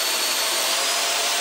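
A disinfectant mist sprayer's motor runs as a steady, close, even whir with a bright airy rush and no pauses, heard alone.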